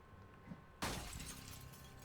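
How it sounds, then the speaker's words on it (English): A window pane shatters in Project Zomboid, a sudden loud crash of breaking glass after a quiet moment, with scattered tinkling debris trailing off. "I'll smash this one."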